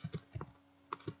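Close, quiet keystrokes on a computer keyboard: a few soft taps in a quick cluster, a short pause, then two more clicks.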